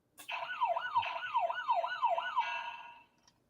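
A small electronic toy siren wails in quick rising-and-falling sweeps, steady and fairly close, for about three seconds before cutting off.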